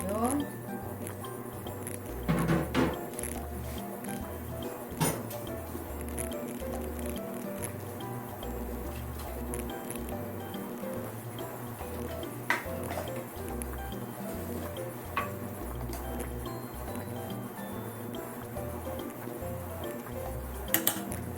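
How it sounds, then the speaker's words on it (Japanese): Broccoli boils in a pot of hot water on the stove, giving a steady, close bubbling and soft sloshing that runs the whole time, broken by a few sharper splashes or knocks. "お湯を沸かしたのでね、茹でていきますよ。"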